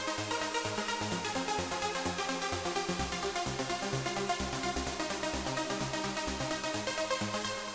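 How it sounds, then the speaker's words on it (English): An arpeggiated synth lead from the Anna 2 soft synth steps rapidly and evenly through the notes of a chord in a continuous, dense pattern, sounding busy, bright and steady throughout. "Anna 2's got a really, really cool featured arpeggio where you can select the order in which you do the chord"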